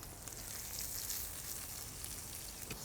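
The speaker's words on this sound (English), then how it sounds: "Putting down a little chili oil in the steel skillet, and then we'll add our onions" Onions sizzle in chili oil in a steel skillet, a steady, fairly quiet hiss of frying that runs without a break and has no talking over it.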